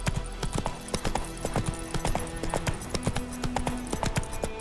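Roach the horse galloping in The Witcher 3, rapid rhythmic hoofbeats clattering steadily and close, with tack jingling over a low background hum.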